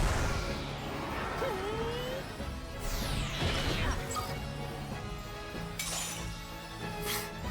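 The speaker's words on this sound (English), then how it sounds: "He just broke his glass off." Glass shatters and breaks apart during the Reclusa boss battle of the video game Mario & Luigi Brothership. Bright crashes and tinkling shards land over busy game music and effects, with a rising whoosh beforehand.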